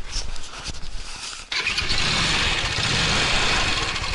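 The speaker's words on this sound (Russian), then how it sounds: "Ну заводи сам, Макс." A 150cc Phantom moped engine cranks briefly, then catches and settles into a loud, steady idle at close range, running alone without talk after a short sputtering start.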